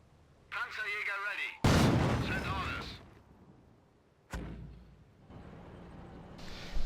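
Mortar team firing in the World War II strategy game Company of Heroes: two heavy booming blasts with rumbling tails, one sharp report after a brief lull, accompanied by synthetic whooshes and a voice in the game.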